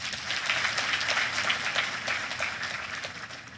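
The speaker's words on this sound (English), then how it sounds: "Please, another round of applause for His Excellency Senator Abubakar Atiku Ba" A conference hall audience claps in steady, dense applause at an economic society's annual conference, moderately distant and fading slightly toward the end, with no talking over it.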